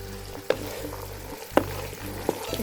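Peas frying in a pan with paneer for aloo matar vegetable pulao sizzle steadily. Three sharp scraping stirs come at roughly even intervals.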